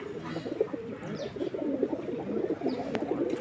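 A cage of about twenty-five pigeons fills the air with overlapping low, throaty cooing that rises and falls continuously, close up with a few faint flutters.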